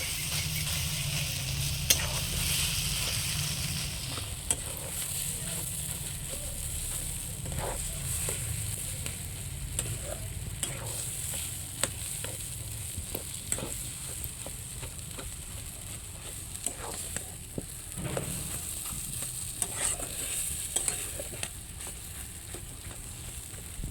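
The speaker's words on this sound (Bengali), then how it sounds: "এবার আমি ভালো করে মশলার সাথে আলু সিদ্ধর সাথে একবারে ভালো করে মিশিয়ে নেব" Boiled potato is mashed and mixed with spices in a pan for egg chop, heard as steady, quiet scraping and stirring with faint sizzling and occasional light taps of the utensil.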